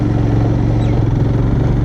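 A motorcycle engine runs steadily while riding through mountain roads in Arunachal Pradesh, a loud continuous drone with wind rush and no pauses.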